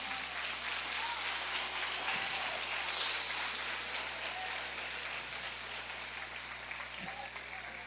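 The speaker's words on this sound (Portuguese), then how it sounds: "Dá um aplauso ao Senhor." Applause from a church congregation at a convention service, a dense, steady wash of clapping that carries on through the whole stretch, roomy and moderately loud with no talk on top.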